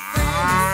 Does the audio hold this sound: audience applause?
no